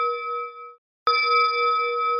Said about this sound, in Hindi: ये घंटी तो हर रोज 12 बजे बजती है